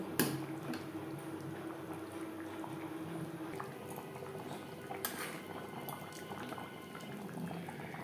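Egg pakoras simmering in a chilli gravy in a pan on a gas flame, a steady close bubbling and popping that carries on throughout with a couple of sharper clinks.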